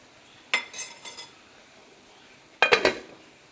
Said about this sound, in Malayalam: നമുക്കിതൊന്ന് അടച്ച് വെക്കാം കേട്ടോ.